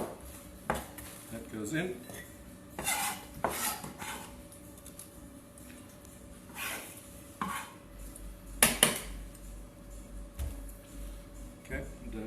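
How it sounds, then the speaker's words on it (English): Knife chopping sliced red and green cabbage on a board, with sharp irregular knocks and scraping amid kitchen clatter, while a person talks intermittently nearby. "I'm going to just chop this up a little bit"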